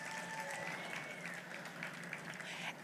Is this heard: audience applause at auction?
yes